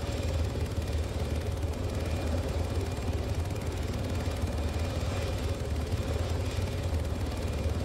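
A helicopter in a Falklands Campaign military game drones steadily with a heavy rotor and engine roar, loud and constant throughout, heard alone without voices.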